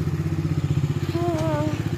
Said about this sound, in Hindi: आवाज़ सुन रहे हो बाइक की?